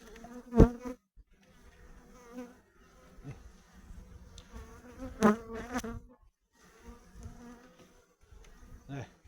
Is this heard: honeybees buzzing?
yes